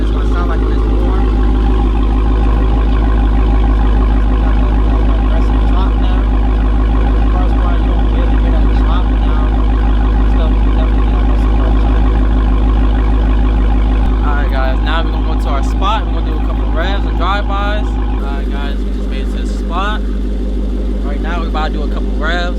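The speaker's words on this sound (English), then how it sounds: "But now it's running idling. It's warm now, so this is what it's going to sound like when it's warm." A warm 2022 Dodge Charger Hellcat widebody with a Corsa Extreme exhaust idles with a deep, loud, steady rumble close by, while someone talks over it throughout.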